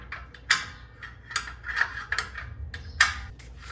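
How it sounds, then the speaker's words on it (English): Small metallic clicks and ticks as a flathead screwdriver flicks the star-wheel brake adjuster gear on a Saab 900 rear brake, several sharp close clicks spaced irregularly over a low background hum. "with my flathead screwdriver, I'm gonna stick this in here and just kind of flick the little gear around till this starts to loosen up a little bit"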